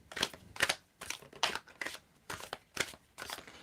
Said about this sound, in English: I want you to tell me when to stop shuffling.